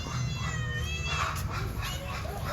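A white-and-tan domestic cat meows repeatedly for food, its calls close and clear over a steady background hum.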